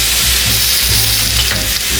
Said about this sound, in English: you stir fry a little bit